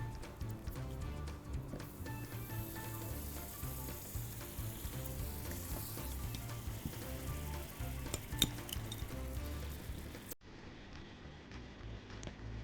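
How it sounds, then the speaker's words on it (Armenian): Butter sizzling with flour in a pan for a toasted flour and sesame dish, a steady, dense frying hiss with some stirring scrapes throughout, close and continuous. "Ավելացնում եմ կարագը։"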